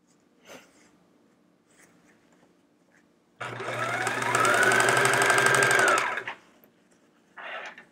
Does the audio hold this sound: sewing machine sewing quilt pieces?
yes